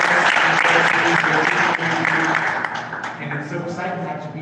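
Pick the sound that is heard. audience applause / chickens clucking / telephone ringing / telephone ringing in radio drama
audience applause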